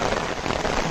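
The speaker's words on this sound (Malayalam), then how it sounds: "ഇവിടെ കൊറേ നേരം നിന്നതിന് ശേഷം മാരക മഴ വന്നാട്ടാ" Heavy rain falls in a dense, steady hiss with no gaps, close and fairly loud, with no voices over it.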